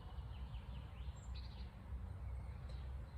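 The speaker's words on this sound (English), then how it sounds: "I also hear some other birds in the distance." Distant birds call faintly outdoors, a few thin chirps and whistles scattered over a steady low background rumble of traffic.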